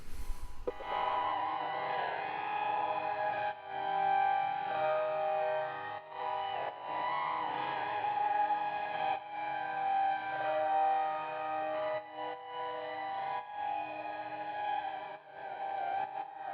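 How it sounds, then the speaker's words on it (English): A sustained synth tone with a wavering, pulsing echo that shifts in timing, giving a slow undulating movement; steady and fairly loud, no voices. "this LFO is LFOing the rate on the LFO that's controlling the echo's division time"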